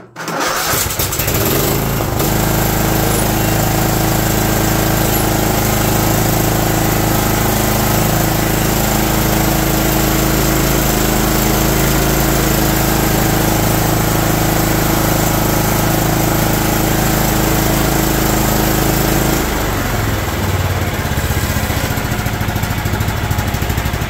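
A John Deere LT160 Automatic riding lawn mower engine starts and runs loud and steady for over twenty seconds, a constant droning hum with a brief change in tone near the end and no talking.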